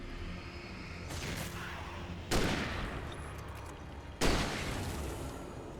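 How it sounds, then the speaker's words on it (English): Flare gun shots in the video game Alan Wake, heard as two sharp loud bangs, each with a hissing, fizzing tail, over a low steady background rumble. "a flare gun shot directly into the chest"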